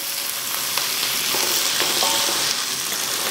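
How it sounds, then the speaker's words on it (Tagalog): Onion and pork sautéing in a hot pan for a Filipino sotanghon guisado, giving a steady, loud, close sizzle with light stirring throughout and no talk. "Sabay lagay ng sibuyas. So yan, gisa na natin kasama yung pork."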